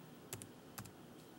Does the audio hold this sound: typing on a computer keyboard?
yes